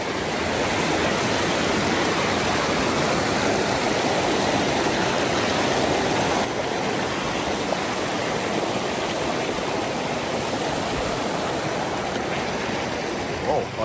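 A river stream on Kilimanjaro rushes steadily and loudly nearby, a constant broadband roar of flowing water that barely changes for the whole stretch.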